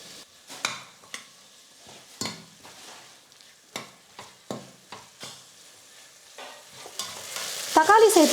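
Chopped tomatoes sautéed in a pan for mushroom biryani, a spatula stirring and scraping in irregular strokes over a quiet sizzle that grows louder toward the end, close and without speech.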